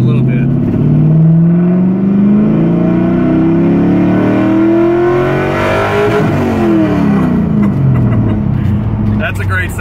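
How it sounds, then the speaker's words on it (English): Mazda RX-7 rotary engine revving in second gear while rolling on, a loud, close continuous drone with rising and falling pitch sweeps throughout. "just listen to this thing. It's second gear. I'm gonna roll on just a little bit."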